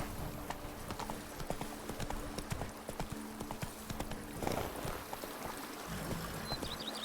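Hooves of the horse Roach gallop in The Witcher 3: Blood and Wine, a rapid, rhythmic clip-clop of hoofbeats over a steady background, close and continuous throughout.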